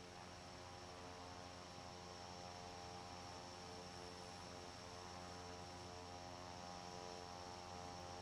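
The propeller engine of a Klemm KL25 in Microsoft Flight Simulator 2024 drones loudly and steadily with a constant harmonic hum, unchanging throughout.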